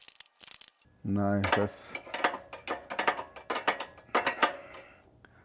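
A ratchet wrench tightens the motor mounts and tensions the chain as the motor is pushed upward; a brief mechanical whir gives way to bursts of sharp clicking and clanks, close up, with someone speaking briefly.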